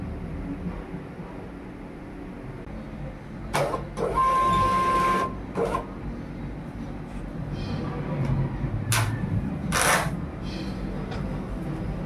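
A home printer runs in bursts, with short mechanical whirs and one longer feed pass, over a quiet room background with faint movement.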